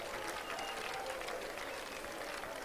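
A church congregation gives a clap offering during a miracle service, a steady, dense wash of applause from a large crowd that holds evenly throughout.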